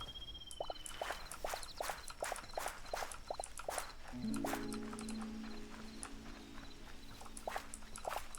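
A horse in the video game Hytale makes rhythmic clip-clop hoofbeats through the first half, then a drawn-out whinny-like call, with light game ambience and no speech.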